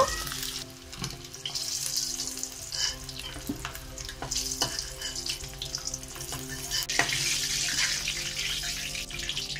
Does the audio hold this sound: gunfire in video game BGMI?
no